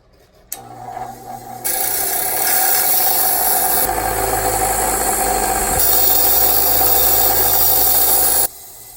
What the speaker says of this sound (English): now we are going to take these over to the grinder and clean up the ends here.